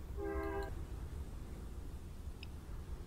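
A train horn sounds once with a short harmonic blast near the start, fading against a steady low rumble of rail traffic, with a faint tone later.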